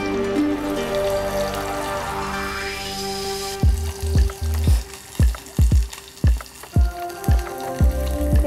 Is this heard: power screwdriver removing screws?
no